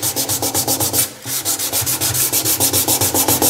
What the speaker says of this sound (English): use very fine sandpaper to smooth everything down